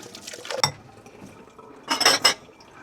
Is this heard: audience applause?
no